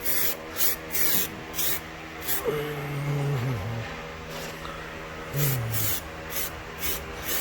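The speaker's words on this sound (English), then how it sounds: "I'm just putting the primer over it right now, so I'm just going to fill over to kind of like seal the fill in." Aerosol primer sprayed over body filler on the rocker and cab corner of a 2006 Ford F-150, in repeated close hissing bursts of varying length, with a faint engine-like hum rising and falling underneath.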